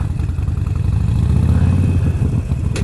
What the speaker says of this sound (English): That exhaust sounds kick-ass now.